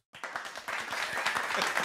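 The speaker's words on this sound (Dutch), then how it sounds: "Applaus." An audience bursts into applause after a brief silence, dense clapping building quickly and holding steady.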